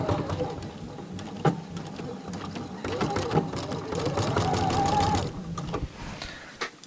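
A sewing machine stitches corner to corner across two pieces of fabric pinned together, its steady motor hum running nearly the whole time with a rising whine near the end and a few sharp clicks.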